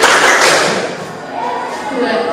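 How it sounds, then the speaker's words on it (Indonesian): A group claps along in a 3-6-9 counting game, a few sharp hand claps near the start fading into softer, scattered claps and voices counting aloud. "3, 6, 9 tepuk tangan"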